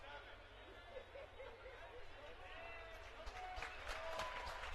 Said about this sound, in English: Fixed and crowd applauds